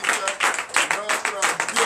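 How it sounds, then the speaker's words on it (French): A congregation at a morning prayer service in Benin claps loudly and steadily in praise, many hands striking in rhythmic bursts with faint voices mixed underneath. "Je vous demande d'applaudir très fort notre merveilleux Seigneur"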